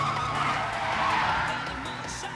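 Anime race cars, an FC and an Evo 3, corner hard in a mountain battle, their tires skidding and squealing loudly in a sustained screech over engine roar.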